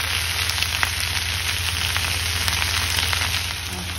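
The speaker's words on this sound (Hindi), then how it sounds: "इसे थोड़ी देर ऐसे ही भूनेंगे।" Cubes of paneer sautéing with salt in a pan for chilli paneer give a steady, even sizzle with faint crackles, running unbroken throughout with no voices.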